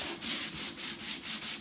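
Sandpaper rubbed by hand over wooden furniture gives a rhythmic back-and-forth rasp, about six even strokes in quick succession, close and clear with no voices.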